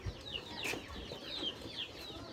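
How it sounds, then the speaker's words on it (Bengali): Chickens cluck and chatter inside a poultry farm house, several birds calling in short overlapping bursts at moderate distance over a quiet room hum, without talk. "এটার ভিতরে অনেক মুরগি আছে"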